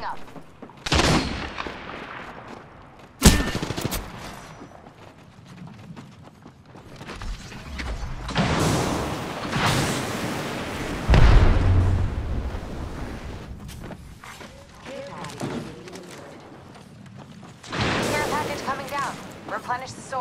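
Apex Legends gunfire comes in scattered bursts: sharp shots and short volleys, some loud and close, others softer, with in-game voice lines spoken between and over the shooting.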